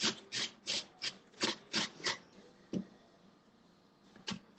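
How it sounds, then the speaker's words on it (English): An apple grated by hand for a zucchini and white chocolate loaf: a rhythmic series of close, raspy strokes, about a dozen in quick succession, then a pause and a few more. "Just grating up the apple."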